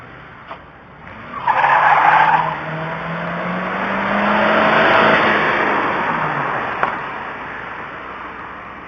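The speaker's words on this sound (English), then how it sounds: "And some more exhibition driving from my friendly neighbors." A car doing exhibition driving on a city street, skidding with a long tire squeal while the engine revs and rises, loud and continuous, heard from nearby without any talking.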